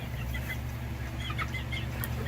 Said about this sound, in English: And that's our rooster, Corona.